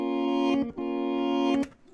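A reversed guitar sound rendered in Pro Tools: a short sustained tone that swells up and cuts off, repeated twice in under two seconds, faint and alone.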